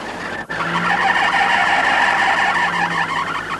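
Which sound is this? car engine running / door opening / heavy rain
car engine running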